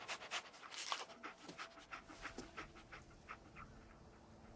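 Dog companion Dogmeat from the Fallout 4 video game panting steadily in quick, rhythmic breaths, close and fairly quiet, with no other sounds over it.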